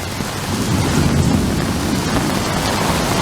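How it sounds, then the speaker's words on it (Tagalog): A steady roar of heavy rain with low, rolling rumbles of thunder beneath it, continuous and fairly loud throughout, on España Boulevard near Maceda, Manila. "Kumukulog pa."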